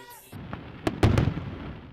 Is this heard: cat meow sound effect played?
no